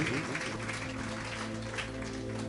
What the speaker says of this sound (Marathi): जोरदार टाळ्या प्रभूच्या गौरवासाठी